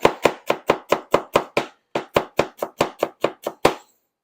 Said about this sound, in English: So we want about 2 tablespoons of chopped, minced celery.